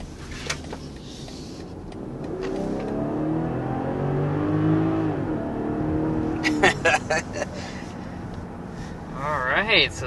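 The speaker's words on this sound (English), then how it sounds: "quick jolt of acceleration in this X5" A 2023 BMW X5 SUV engine revs up and accelerates, a rising roar building over several seconds, with a person speaking briefly before and after.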